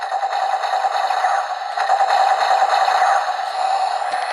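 The Zenkaiger Zenryoku Zenkai Cannon toy plays its electronic gun-firing sound effects, a loud, tinny, rapid bang-bang rattle running continuously with a shrill tone, close by and with no talking.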